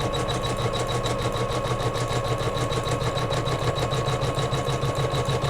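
A sewing machine runs steadily while quilting a Kimberbell pillow block, tacking batting down, its rapid needle rhythm and motor hum continuous, close and even throughout.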